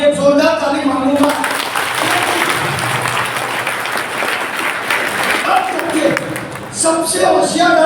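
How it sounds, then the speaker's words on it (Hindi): Loud audience applause fills a marketing business meeting hall in Kukshi, Madhya Pradesh, a dense burst of many hands clapping for several seconds between stretches of a man's speech. "तो राष्ट्रपति एपीजे अब्दुल कलाम साहब के लिए जोरदार ताली मांगूंगा।"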